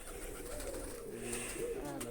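Pet pigeons, a hen among them, coo softly for a couple of seconds, faint and low against a steady background hiss.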